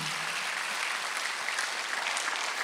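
A church congregation applauds together during a Sunday worship service, steady sustained clapping from many hands filling the room throughout, with no talking over it.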